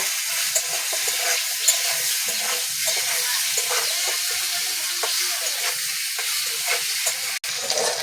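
Long-cut potatoes fry in oil with salt and turmeric, producing a constant close hiss and crackle with occasional stirring knocks and a brief sharp click near the end, no voices.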